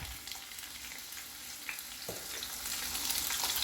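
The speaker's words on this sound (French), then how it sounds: "Je vais dorer la morue." Salted cod browns in a pan with a continuous crackling sizzle that grows a little louder and denser toward the end, quiet and close, with no talk.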